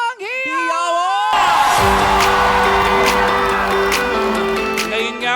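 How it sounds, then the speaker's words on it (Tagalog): A large crowd at an outdoor public event in Imus, Cavite breaks into loud, sustained cheering, whooping and applause, steady and close over several seconds, after a short amplified voice at the start. "Mga Imusenyo, magpalakpakan na may kasamang hiyawan!"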